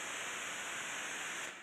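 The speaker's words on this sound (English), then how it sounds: "It's white noise. It's such a chaotic ringing." Simulated Big Bang rendered as steady, loud white noise, a dense hiss filling the whole range with a faint high ringing band, continuous for under two seconds before tapering slightly at the end.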